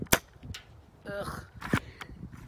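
An SSG24 airsoft sniper rifle fires BBs at a steel target, giving a few sharp, ringing metallic dings with short gaps between them. Each strike is fairly close and clear over a soft background, and there is no talking.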